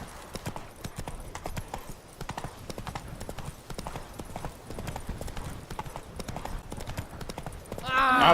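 Roach, a horse in The Witcher 3, gallops with fast, steady hoofbeats clip-clopping up close, ending in a brief whinny.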